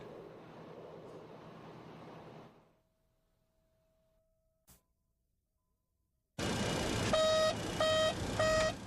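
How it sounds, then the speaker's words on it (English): Flap warning horn in a Boeing 727 jetliner cockpit: after a fade and near silence, a loud, harsh electronic tone bursts in and sounds in repeated, evenly pulsing beeps up close. "This is the sound of the flap warning horn in the cockpit of a Boeing 727 jetliner."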